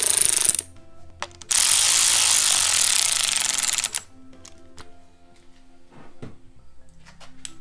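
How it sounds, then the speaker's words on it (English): An electric ratchet spins on the cylinder head bolts of a 2008 Subaru Impreza, two loud bursts of buzzing, clicking whir close by, followed by quieter taps and metallic clinks from tools. "Take the electric ratchet and just slightly"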